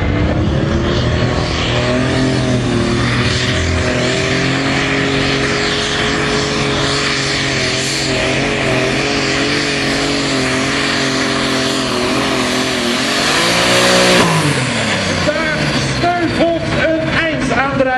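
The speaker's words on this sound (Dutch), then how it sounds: "Daar gaat de motor heel hoog in toeren." A John Deere ProStock pulling tractor at a tractor pulling event in Staphorst revs its engine very high, a loud sustained roar with rising and falling harmonic whine that surges near the end, under an announcer's voice.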